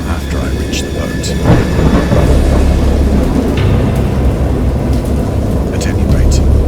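Rumbling thunder rolls over a steady, heavy downpour in the storm scene of Dagon, a Lovecraft interactive horror novel game, dense and loud throughout with a voice speaking beneath it.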